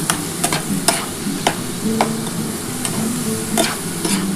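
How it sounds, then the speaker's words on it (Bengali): Radish being stirred with spices in a pan for a Bengali radish paturi, giving a steady close scraping and soft sizzle with regular sharp utensil knocks against the pan. "মশলাটার সাথে কিন্তু ভালোভাবে এটা নাড়াচাড়া করতে হবে।"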